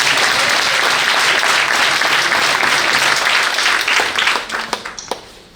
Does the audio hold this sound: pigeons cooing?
no